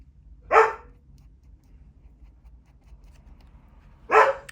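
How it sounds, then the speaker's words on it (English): A dog gives two sharp barks about three and a half seconds apart, moderately close, in a quiet indoor space with faint low background hum and no talking. "DOG?"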